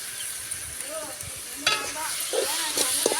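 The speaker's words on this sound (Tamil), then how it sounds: "இந்த மாதிரி வெங்காயம் தக்காளி போட்டு வதங்கினா" Onions and tomatoes with salt sizzle and fry in a pan for kurma as a spoon stirs them, a steady close hiss with scraping and clinking strokes in a village kitchen.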